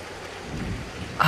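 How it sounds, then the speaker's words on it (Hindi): Heavy rain falls in a steady broadband hiss, dense and even, with a brief louder surge near the end; no voices. "इतनी बारिश हो रही है,"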